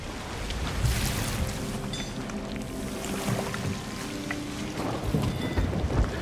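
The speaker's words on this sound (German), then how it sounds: "Oh, wir fahren aus dem Sturm raus." A storm at sea in Sea of Thieves brings steady rain hiss with low rumbling thunder and creaking ship and water noise. The din is loud and continuous, with a few heavier swells, and no voices are heard.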